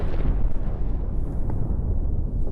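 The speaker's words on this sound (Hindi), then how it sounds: "रिहायशी इलाके पर मिसाइल अटैक की एक और तस्वीर सामने आई है, जहां धमाके के बाद धुएं का गुबार" A missile blast rumbles through a residential area of Tel Aviv, a loud, sustained low roar with a crackling boom, heard at a distance with wind buffeting the microphone.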